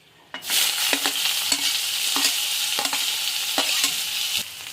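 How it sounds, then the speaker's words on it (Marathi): Green chili, garlic and onion hit a hot pan and fry with a loud, steady sizzle, punctuated by repeated scraping and clinking strokes of a spoon stirring them, with no one talking. "हिरवी मिरची, लसूण, कांदा हे टाकणार आहे"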